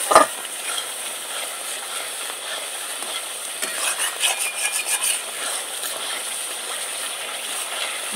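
Spice masala with cumin and turmeric sautéing in oil for a jackfruit curry, a steady close sizzle with scraping stirring strokes, a bump at the start and a busier stretch midway, no talk.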